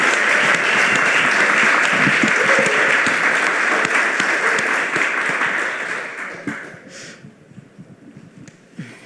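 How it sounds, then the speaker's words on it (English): An audience at a spoken-word poetry showcase applauds a poet: dense, loud clapping from many hands that holds steady for several seconds, then thins and fades into scattered claps. "Round of applause for Melanie Manangara Williams."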